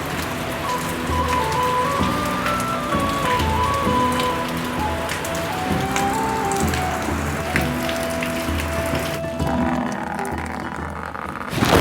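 Steady rain patters on a surface, a dense continuous hiss of drops with some faint background noise, no voices.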